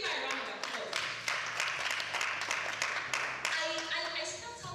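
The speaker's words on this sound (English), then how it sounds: "Let's please give her a round of applause." Sustained applause from an audience, dense clapping filling the room for several seconds at a steady, moderately loud level.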